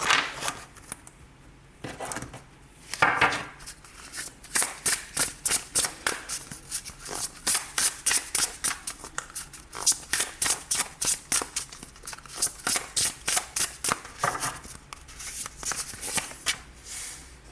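A deck of tarot cards is shuffled by hand in a quiet room, giving rapid, crisp riffling bursts that repeat in a steady rhythm, close and moderately loud, with no voices.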